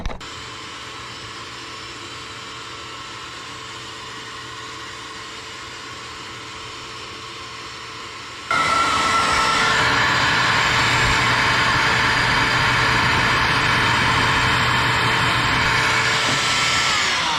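Small 1.5 gallon shop vac sits silent with faint hum, then the motor switches on halfway and runs loud and steady with a high whining rush of air until the end.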